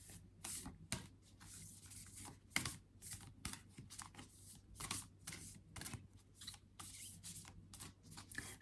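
Oracle cards shuffled by hand, a steady run of soft riffling and rubbing strokes with brief slaps, close and fairly quiet over a low background hum.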